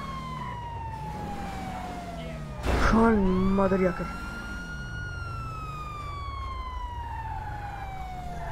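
A police car siren in the video game GTA V with the LSPDFR mod wails in long rising and falling sweeps, briefly jumping to a sharper yelp tone as someone talks over it.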